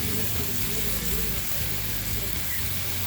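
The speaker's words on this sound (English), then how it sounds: "So the very first thing y'all see him being put on this 22-inch Adventure Ready is bacon." Cheap bacon sizzles and pops steadily on a 22-inch Adventure Ready outdoor griddle by a river, a dense continuous frying hiss filling the whole stretch with no talk over it.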